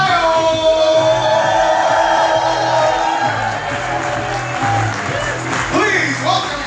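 A studio audience at a political debate event cheers and applauds, a dense wash of clapping and whoops that swells and dips, with a voice talking over the crowd throughout.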